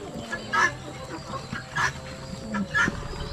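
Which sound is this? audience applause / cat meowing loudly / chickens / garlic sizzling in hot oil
chickens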